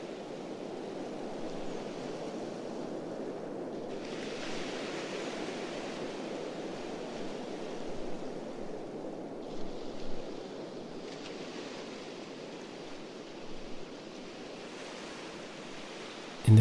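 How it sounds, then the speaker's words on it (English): Steady broad rushing of sea wind, soft and continuous with gentle swells, no voices. "Focus on just the sound of the wind."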